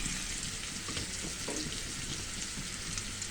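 Garlic paste sizzles steadily in a hot pan while it browns for an egg korma, a dense, even frying hiss that runs unbroken and fairly close throughout.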